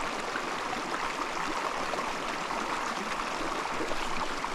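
A small Colorado mountain stream where trout are being fished, flowing in a continuous, even rush of water nearby, with no talking.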